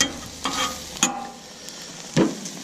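Shrimp searing on a Camp Chef flat top griddle, a soft steady sizzle punctuated by a few sharp scraping clinks of a spatula against the metal surface.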